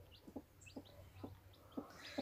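Newly hatched free-range chicks peeping, a series of faint, evenly spaced high chirps over a low background hum, with no talking.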